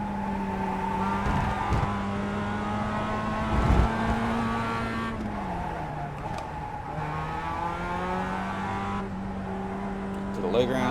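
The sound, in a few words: race car engine accelerating in iRacing video game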